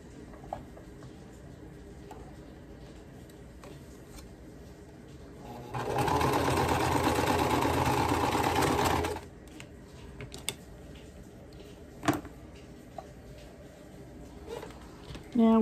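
A sewing machine stitching a quilt block runs in one steady burst of about three seconds, its fast even whirr close and clear, with quiet taps and handling noises before and after.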